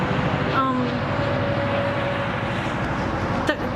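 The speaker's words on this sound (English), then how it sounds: "it was because of that, the GO train going by" A GO commuter train passing nearby, a continuous heavy rumbling and rolling drone with brief tonal squeals, steady and fairly loud throughout.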